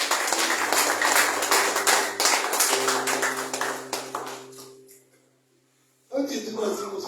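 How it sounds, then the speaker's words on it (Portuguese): Congregation clapping along in rhythm during a church worship service, a steady run of hand claps over held background tones that fades out near the end before voices pick up again. "As palmas vão seguir."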